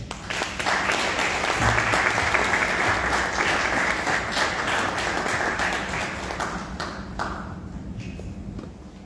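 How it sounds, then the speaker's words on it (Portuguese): Audience applause at a Mozambican political ceremony, a dense sustained burst of clapping that swells early, holds strong for several seconds, then gradually thins and fades toward the end. "Augusta, por favor, uma força de palmas"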